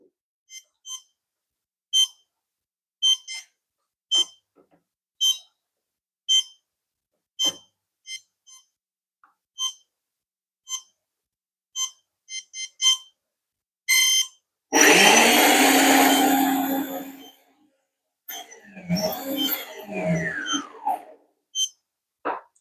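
Drone ESCs on an F450/F550 quadcopter emit a regular series of short electronic calibration beeps, then motors whir up loudly in a sustained spin, pause, and rev again with rising and falling pitch.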